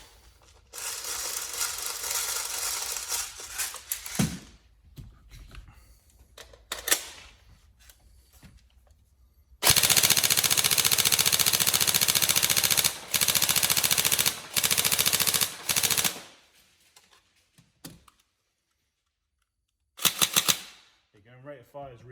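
A Tokyo Marui 416 Delta NGRS airsoft electric rifle, upgraded with double torque motors and shooting near 435 FPS, fires loud full-auto bursts of rapid clattering shots, the longest run lasting several seconds between short pauses.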